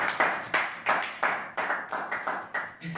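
A church congregation clapping together in acclamation during a Sunday service, a steady rhythmic beat of loud unison claps with about nine strong strokes.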